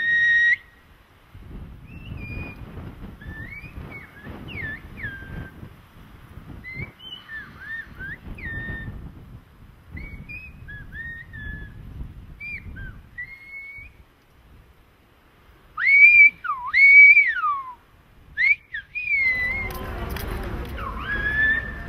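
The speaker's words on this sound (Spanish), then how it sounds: "The whistling sound you just heard is a language that's thousands of years old." Silbo Gomero, the whistled language of La Gomera in the Canary Islands, carried by shrill, sliding whistles in short phrases over low background rumble, growing louder and closer toward the end.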